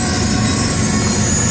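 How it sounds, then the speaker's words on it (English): A passing freight train rumbles close by near a campground on the Thompson River in British Columbia, a loud, continuous, low rolling roar with steady wheel noise. "Another train."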